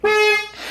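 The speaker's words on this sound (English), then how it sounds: "We got a horn, dude!" A car horn honks in one steady blast, loud and close, then cuts off, after a faulty red wire was traced to the horn button in a repair.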